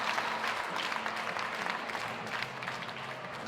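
Steady, dense applause from a crowd at the 108th men's Varsity Match, a Blues fixture, greeting the player of the game; a continuous wash of clapping that holds level throughout with no gaps.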